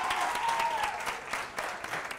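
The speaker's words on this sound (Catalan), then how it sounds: "Un aplaudiment també per ells." A studio audience on a local TV quiz show applauds a school team with continuous, moderately loud clapping throughout.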